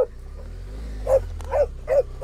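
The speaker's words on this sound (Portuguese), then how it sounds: "Olha o cachorro." A dog on a rural border road in Brazil barks three times in quick, evenly spaced yaps, fairly close, over a low idling motorcycle engine rumble.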